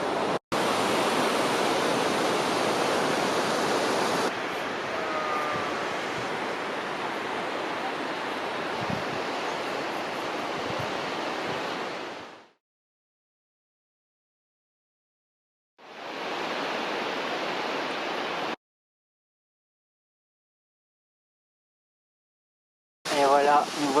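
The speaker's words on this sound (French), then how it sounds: "La cascade de Gavarnie, avec 423 mètres de haut," Roaring white-noise rush of the Gavarnie waterfall, a 423-metre cascade in the Hautes-Pyrénées, loud and steady with gaps of silence between sections, and a voice speaking over part of it.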